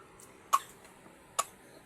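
A person who is ill coughs twice, two short sharp bursts spaced about a second apart against a quiet background.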